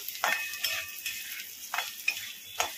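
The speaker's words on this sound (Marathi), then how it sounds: "डाळीचा कच्चा वास जाईपर्यंत आपण 2 मिनिटं ह्याच्यामध्ये फ्राय करायचं आहे" Lentils (dal) frying in a pan for a simple village-style dal and onion dish: a soft sizzle under several distinct scraping stirs of a spatula, spaced unevenly and heard up close.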